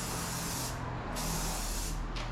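A spray paint can hisses in steady full-coverage passes on a 1995 Chevrolet Silverado truck part, held close, with loud broadband bursts separated by two short pauses.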